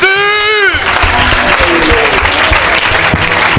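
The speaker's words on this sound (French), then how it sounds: "Acclame très très fort pour Jésus." A crowd at a church worship event applauds loudly and continuously, the clapping dense and close, with a voice singing or calling out briefly at the start.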